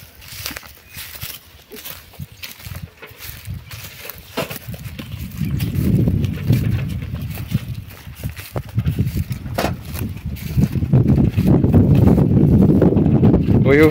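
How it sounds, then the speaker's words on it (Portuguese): Strong wind gusts across an open farm plot with a duckweed pond, a low blustery rumble that starts faint and grows louder and steadier toward the end, buffeting the microphone. "Hoje o vento tá solto aqui"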